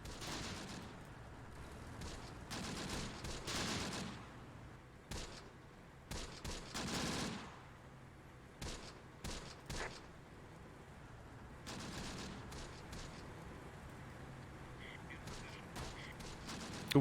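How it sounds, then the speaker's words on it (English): Artillery barrage in Close Combat: The Bloody First, repeated faint distant blasts and crackling volleys at irregular intervals over a low background hum, with a voice talking quietly at times. "Okay, we do have another barrage."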